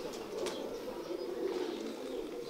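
A gifted pigeon from Lahore, shown among prized pairs, coos in a soft, steady low murmur with faint bird chirps above, continuous and close throughout.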